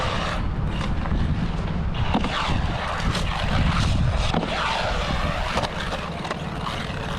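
Mojave Grom 223s RC car driving with a broken dogbone, its drivetrain giving off a continuous loud whining, grinding roar that stays steady throughout with no talking.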